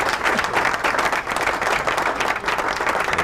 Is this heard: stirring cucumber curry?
no